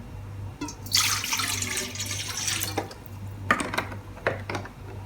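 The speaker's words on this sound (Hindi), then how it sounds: "सबसे पहले मैं 2 कप पानी ऐड करने लगी हूँ।" Water from a tap runs steadily into a cooking pan as two cups are added for a plum and barley malt sharbat, a continuous splashing pour with brief breaks near the end, close and moderately loud with a low hum beneath.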